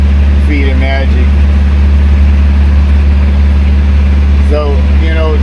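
Pony motor on a PD4501-316 engine running steadily, a loud continuous low drone with a constant hum, while someone talks over it at times.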